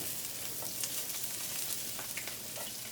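Garlic heats in a pan in a soft, steady sizzle that stays faint and even throughout, with light crackles over the hiss.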